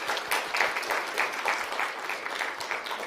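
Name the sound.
audience applause at LoRaWAN Live Tokyo keynote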